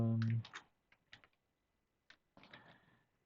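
A short burst of voice opens, followed by scattered close taps on a computer keyboard in small irregular clusters with quiet gaps between them, during settings for the game Left 4 Dead 2.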